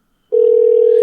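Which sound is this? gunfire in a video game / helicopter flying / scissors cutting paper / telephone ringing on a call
telephone ringing on a call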